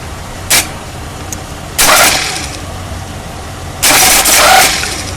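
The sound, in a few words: car starter motor spinning, tested with jumper cables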